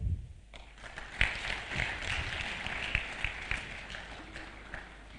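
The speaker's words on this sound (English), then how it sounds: "You can join me to welcome the Honorable Minister with the round of applause that you can give." Indoor audience applause at a formal annual assembly session, a steady mass of clapping from a seated crowd that swells and holds for several seconds, with a few sharper individual claps near the start.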